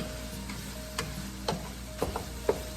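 Ground beef frying in a pan for creamy beef noodles, a steady low sizzle broken by a few clinks and scrapes of a stirring utensil at regular intervals, close and moderately quiet.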